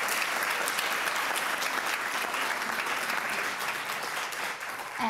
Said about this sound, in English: So we can have one more round of applause for our students.